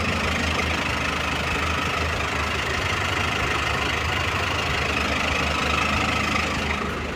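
A Hino six-wheel truck with a W04D engine idles steadily nearby. The low diesel rumble and knock stay loud and even throughout, with no talking.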